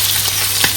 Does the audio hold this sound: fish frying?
yes